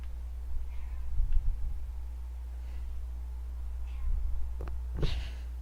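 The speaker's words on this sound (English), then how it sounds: "My cats are over there talking to each other" Cats meow softly back and forth at a distance, a few short calls spread across the stretch over a steady low hum, quiet and with no talking.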